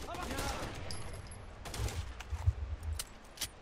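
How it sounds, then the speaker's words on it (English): Bursts of gunfire in the shooter game Rainbow Six Vegas, a cluster of sharp shots with a few louder isolated cracks, heard under and between players' voices. "And we're being shot at again."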